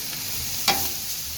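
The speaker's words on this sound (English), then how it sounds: "And just toss it on in, and we'll stir that steak on in. And we'll let that cook for some." Steak sizzles on a hot Blackstone griddle while it is stirred for fajitas, a steady close frying hiss with one brief scrape partway through.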